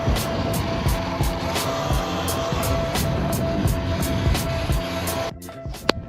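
An E-Ride Pro SE electric dirt bike runs at full throttle, its steady motor whine mixed with loud wind rush and rhythmic pulsing before the sound drops off abruptly near the end.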